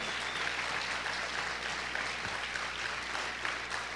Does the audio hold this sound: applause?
yes